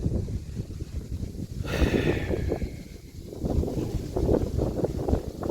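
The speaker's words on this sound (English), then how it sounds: "Wind is picking up." Gusty wind blows across an open outdoor spot where brush and grass are being cut, buffeting the microphone with a steady low roar that swells and eases over a few seconds.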